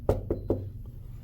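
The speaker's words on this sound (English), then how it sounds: "I don't have the key, so I'm gonna knock." Three sharp knocks rap on a hotel room door at a Country Inn & Suites in Niagara Falls, evenly spaced and close, followed by a faint fourth tap.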